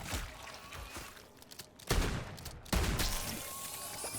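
Bursts of weapon gunfire in Modern Warfare 3 Zombies, two loud sharp volleys separated by short gaps, with softer game clatter and rattles between them.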